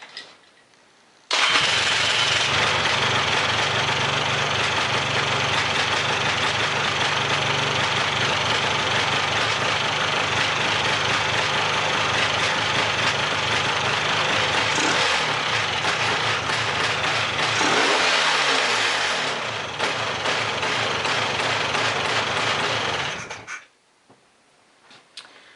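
Polaris Scrambler 400 ATV fitted with a completely different exhaust system, starting abruptly and running loud and close with a raspy drone, revving briefly near the end before shutting off.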